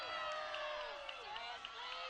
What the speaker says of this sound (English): This Ducks crowd is loud, perhaps the loudest of the evening